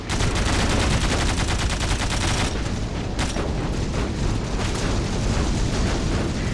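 Heavy, continuous automatic gunfire and booming explosions fill a zero-gravity tactical shooter video game. Dense rapid bursts stay loud throughout with no letup, and no one speaks.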